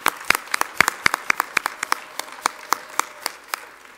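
A church congregation claps steadily and crisply, the individual sharp claps spaced fairly evenly and fairly close, without much cheering, filling a few seconds.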